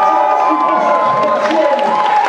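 A crowd cheers and applauds loudly for the winner of a French burger championship, a steady roar with voices shouting over it throughout.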